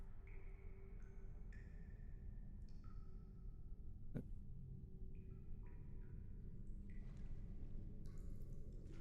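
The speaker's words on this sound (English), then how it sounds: "Nice little water droplet sound effects going on." Water droplets drip inside a cave in the Elden Ring video game: sparse, faint plinks and tonal drips at irregular intervals over a quiet, low ambient rumble.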